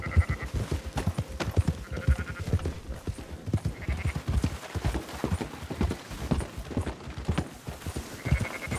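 Sheep bleat repeatedly while horse hooves clip-clop steadily in Red Dead Redemption 2, the bleats rising above a continuous busy patter of hoofbeats and movement.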